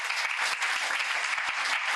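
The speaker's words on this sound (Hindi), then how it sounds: "जोर से एक बार ताली बजाओ" A church congregation claps loudly together during a Hindi sermon, a dense, steady burst of hand clapping with many sharp individual claps, fairly close and with no voices over it.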